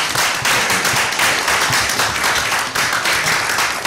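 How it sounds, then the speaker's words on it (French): An audience claps steadily after a presentation in a meeting hall, with dense, continuous applause that fills the room at a fairly loud level and no talking over it. "je souhaite qu'on t'applaudisse encore une fois"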